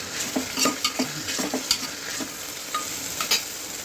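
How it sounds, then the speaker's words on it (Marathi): Rice being roasted in hot oil for masala bhat sizzles steadily in a pan while a spoon stirs it with soft scraping knocks in an irregular rhythm, close up and with no talking. "त्याला 2 मिनिटं मी तेलामध्ये भाजून घेणार आहे।"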